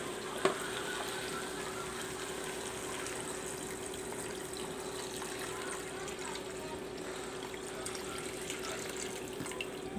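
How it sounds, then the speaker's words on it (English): Water pours steadily into a pot for a budget pasta soup, a constant close gushing stream running throughout, with soft speech faintly present. "Ito, ilagay natin tubig."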